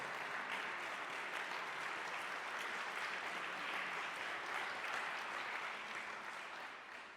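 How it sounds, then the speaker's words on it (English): Guests at a St. Johns County proclamation reception for the Museum of Black History foundation applaud County Administrator Joe Andrews, a quiet, steady patter of clapping from a moderate crowd that fades slightly at the close. "Give Joe an applause."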